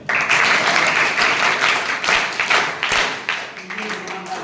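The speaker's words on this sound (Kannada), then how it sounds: "ಮಕ್ಕಳಿಗೆ ಒಂದು ಚಪ್ಪಾಳೆ ಬರಲಿ" Applause for children at a village event, a crowd clapping loudly at first, then the clapping thins and fades while a voice carries on talking.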